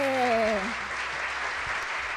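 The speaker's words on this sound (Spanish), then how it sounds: "le damos fuerte, fuerte aplauso a Mago Oxben" Loud, dense applause from a magic show audience greeting magician Mago Oxben, with a voice trailing off over the opening moments before the clapping carries on steadily alone.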